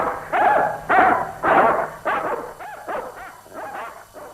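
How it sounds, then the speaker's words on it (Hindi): Several dogs bark in a run of about eight sharp, fierce barks at close range. The barks come at a fairly even pace and the later ones grow slightly softer. "तुम उन कुत्तों को रोको भाई, बड़े खूंखार दिखाई देते हैं"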